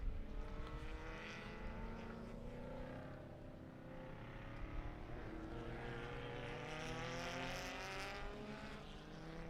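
A turbocharged race car drives on a track at a circuit, its engine note rising and falling in sweeping pitch as it passes at a distance, steady and moderately loud throughout.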